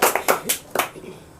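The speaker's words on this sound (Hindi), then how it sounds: "ताली बजाइए आदर्श जी के लिए" Short bursts of classroom applause ring out for a student's correct answer in a quiz class, a few quick clusters of hand claps that fade out within a second or so.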